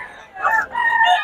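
A rooster crows among chickens, two drawn-out calls rising and falling in quick succession, fairly close and clear, with no talk over them.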